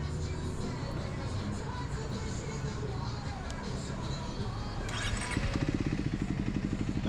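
A motorcycle engine runs with its muffler removed, giving a raw, rough, steady drone that turns into a louder rapid pulsing near the end, with people talking under it.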